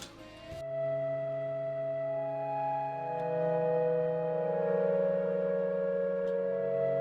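A soft synth pad swells in after a brief click, holding smooth sustained chords that slowly shift, mellow and continuous with no talking.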